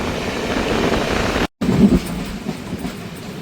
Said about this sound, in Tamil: ட்ரெயின் நல்ல வேகத்தெலாம் போகுது.